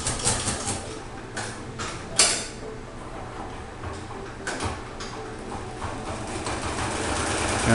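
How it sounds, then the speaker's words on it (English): A Toyota 830 embroidery machine starts up and runs with a steady mechanical whir and rapid creaking, ticking stitch rhythm. A few sharper clunks come early, then the sound settles into a constant, fairly loud hum with no talking. "And the machine will start running for you"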